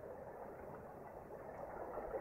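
A steady, continuous rumble of a 172-car freight train rolling past in Wyoming, even and unbroken throughout, with no voices.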